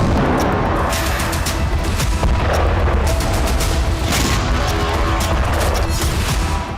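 Russian missile strikes and Tornado-S MLRS rocket launcher attacks on Kharkiv, with continuous loud booms and rumbling blasts following one another over several seconds, no voices.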